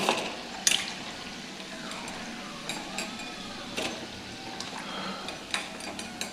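Muthia, Indian steamed dumplings, frying in hot oil and being lifted out: a steady close sizzle and crackle with a few sharp clinks and scrapes of a utensil against the pan.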